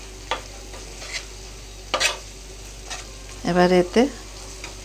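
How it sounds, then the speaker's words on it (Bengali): Spice masala for a green egg curry fries and stirs in a pan, giving soft sizzling and a few short scraping strokes, with brief speech over it. "আমার মশলাটা ভাজা ভাজা হয়ে গিয়েছে"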